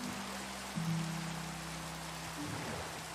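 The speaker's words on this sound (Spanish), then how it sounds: "le voy a bajar el sonido de la lluvia" Soft, steady rain ambience in the video game Minecraft, a quiet continuous patter under low tonal game sounds, with no talking.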